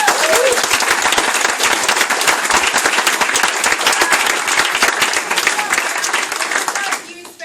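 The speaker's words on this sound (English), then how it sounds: "So I want you to give them a big round of applause." Audience applause at a political meeting with an Australian opposition leader fills the room loudly and steadily, dense clapping throughout before tapering off at the end.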